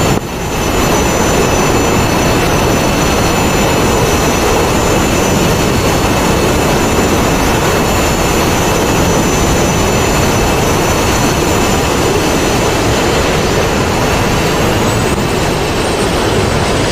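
Jet engines spool up for takeoff in the DCS World flight game, a loud, continuous roar with a thin high whine that holds steady throughout, no voices.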